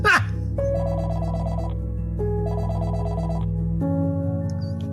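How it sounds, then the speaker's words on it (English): A telephone rings in an animated show, a bright electronic bell in two repeated bursts over a steady low hum, loud and close. "And the phone rings."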